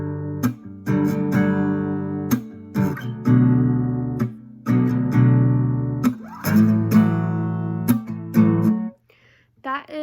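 Three guitar chords for a song ring out one after another, each strummed and held before the next, close and loud, ending in a brief silence.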